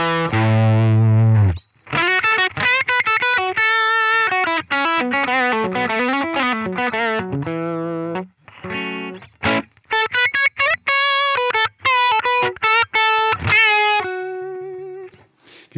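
Electric guitar through a Line 6 Helix: a lightly driven, singing lead phrase of quick runs, bends and sustained notes, played close and loud with no talking.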